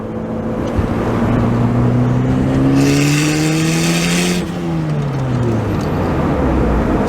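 A turbocharged Honda Prelude accelerating, loud engine note rising through the revs with a hissing rush of turbo boost, then easing off and falling in pitch, heard from inside the car.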